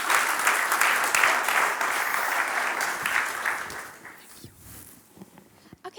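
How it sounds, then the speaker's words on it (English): A conference audience at a university-hosted event breaks into broad applause, dense and steady for several seconds before thinning out and fading near the end. "This is your applause and the stage is yours"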